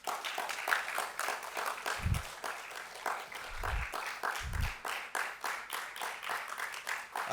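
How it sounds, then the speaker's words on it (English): Audience applause for two performers called back on stage at an art event, a sustained broadband clapping that holds steady for the whole stretch, with a few low thumps near the middle. "Can we please have another round of applause?"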